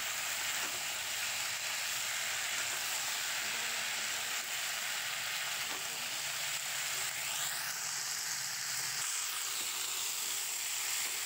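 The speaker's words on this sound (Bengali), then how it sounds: "এবার আলুটা হালকা লালচে করে ভেজে নেব" Steady, broad sizzling of elephant foot yam (kham alu) pieces frying in oil runs throughout, fairly loud and even, with a faint higher whistle-like tone partway through.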